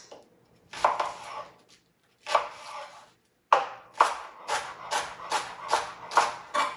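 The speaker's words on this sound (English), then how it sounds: "So just roughly but finely chop your leeks." A knife chops leeks on a board in a kitchen, giving a few separate cuts at first and then a quick regular run of crisp chops, close and clear with no talking.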